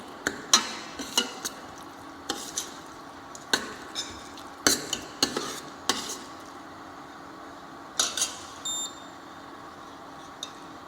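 Brown sauce mixture being stirred in a pan, a series of distinct clinks and scrapes of the utensil against the pan over a quiet background, irregular and repeated with short pauses.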